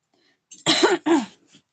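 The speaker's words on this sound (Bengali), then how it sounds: "কাশি হচ্ছে হালকা হালকা গলাটা খসখস খসখস করছে" Two short, raspy coughs in quick succession from a woman with a cold and scratchy throat, close and fairly loud, with a faint throaty rasp after.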